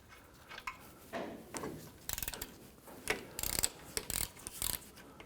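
A ratchet or breaker bar works a brake caliper bolt loose on a 2006-2010 Hummer H3, giving several quick bursts of close metallic clicking between clanks and handling noises, with no talk.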